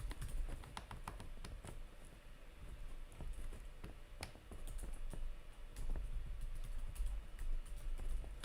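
Quiet, irregular clicking of keys being typed on a keyboard, steady for several seconds with occasional sharper taps and low background hum.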